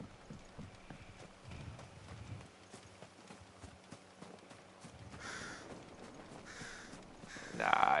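A mount's hooves clip-clopping at a walk in the game Final Fantasy XVI, soft rhythmic footfalls at moderate distance, with a couple of brief bright cawing calls near the end and no talking.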